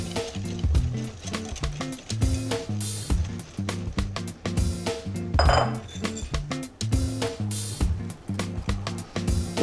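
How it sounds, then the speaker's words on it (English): A whisk clatters rapidly and steadily against a bowl while dry ingredients for a lemon yogurt cake are mixed, a close, continuous rhythmic scraping and tapping without pause. "I'm just going to take the dry ingredients, whisk them in."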